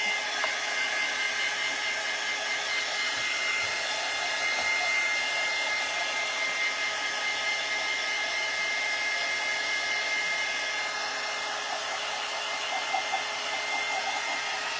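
A hair dryer blows steadily and loudly for the whole stretch, a constant airy whoosh with a faint motor whine and no voices.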